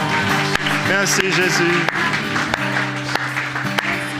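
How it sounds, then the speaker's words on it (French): Church congregation applauding during a French-language service, steady clapping under a voice speaking, with music playing in the background. "Pouvons applaudir le Seigneur ce matin."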